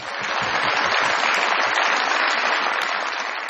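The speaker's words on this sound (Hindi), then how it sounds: "बहुत सारी तालियां" Dense, sustained applause from a large TV comedy show studio audience, loud and even from start to finish.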